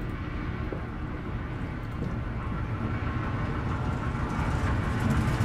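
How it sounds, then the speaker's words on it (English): Train in the video game Amnesia: A Machine for Pigs, a continuous low mechanical rumble and rattle that stays steady and fairly loud throughout, with no talking over it. "Is that a train?"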